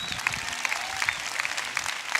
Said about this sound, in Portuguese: Dê uma salva de palmas, povo.